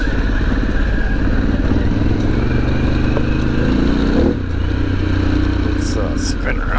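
A Harley-Davidson Pan America Special motorcycle idles and rolls nearby with a steady, loud engine rumble, and someone talks over it throughout.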